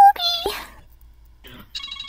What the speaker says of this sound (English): That's my alarm. For the laundry.